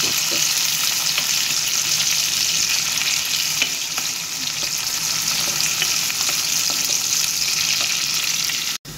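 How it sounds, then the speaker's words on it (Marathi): Onions frying in a pan for a Goan karela fry recipe: a steady, close sizzle and crackle that runs unbroken for the whole stretch, with faint stirring scrapes and no talking. "कांदो घालया बरो भाजून घेता"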